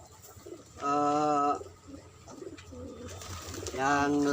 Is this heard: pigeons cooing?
yes